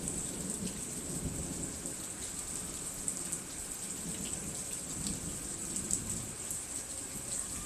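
Steady rain pours down with a continuous hiss, while low thunder rumbles roll through the background.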